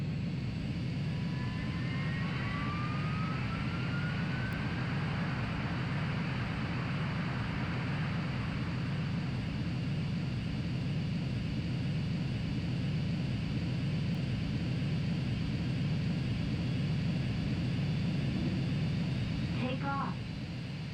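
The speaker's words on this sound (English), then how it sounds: "Cleared for takeoff." Jet fighter taking off in the flight combat game Ace Combat 3: Electrosphere, a steady engine roar with a rising whine that climbs in pitch, heard continuously under someone talking.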